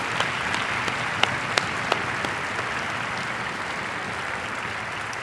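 Steady applause from a college concert audience honouring a guest composer and conductor at a spring band and glee club showcase, with a few sharper individual claps standing out early on.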